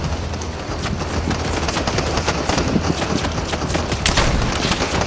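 Sustained rapid gunfire fills a video game, with dense overlapping shots and bursts crackling continuously at a fairly loud level and no voices over it.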